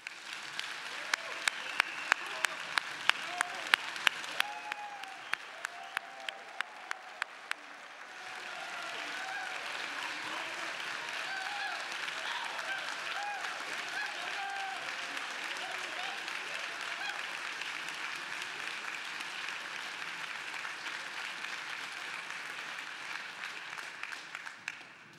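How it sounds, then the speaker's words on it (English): A large graduation audience applauds, opening with scattered sharp claps and then swelling into sustained, dense clapping from a crowd that holds steady until the end. "May I ask you for a round of applause for both Father Phil and for Adam Baber."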